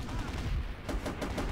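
Dense gunfire rattles in a WW2 Pacific war video game as enemies shoot at the players, with sharp bursts stacking over a loud, constant battle din and no clear talk.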